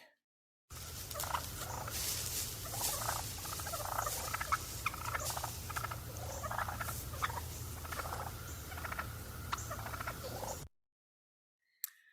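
A wild turkey's soft rolling purrs and clucks repeat over a low steady hum, close and continuous for about ten seconds before falling silent.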